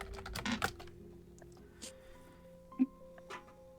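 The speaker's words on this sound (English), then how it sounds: "The cat is on the keyboard" A cat named Smokey walks across a computer keyboard, setting off a quiet flurry of scattered key clicks and taps, then a few isolated presses.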